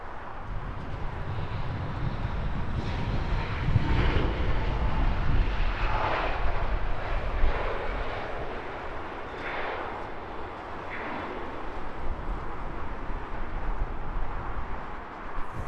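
An airliner roars in to land at Heathrow Airport, a broad, loud engine rumble with a rising whoosh that swells and then slowly eases off, with no talking over it.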